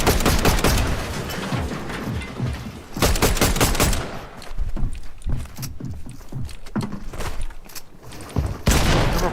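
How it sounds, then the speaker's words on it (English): Rapid bursts of gunfire from the Fortnite video game, loud clattering volleys in clusters with brief gaps and faint talk between them. "I'll try to fire them down"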